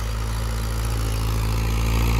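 A Mahindra 575 DI tractor engine runs with a loud, close, steady diesel drone and a constant low throb, and no change in pace.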